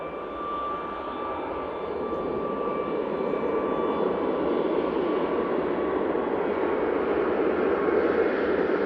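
Ryanair Boeing 737 MAX 8 jet taking off at Manchester Airport, a steady broad rushing roar that slowly grows louder and stays continuous at a moderate distance, with no voices.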